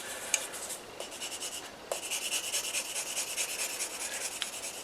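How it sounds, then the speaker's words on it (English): A nail buffing file rasps back and forth over the painted surface of a die-cast Dinky Toys Jaguar Mk X model car, steady close scratchy rubbing strokes with a brief pause midway, quiet and alone. "I'm going to dress this down with a file, my nail buffing file"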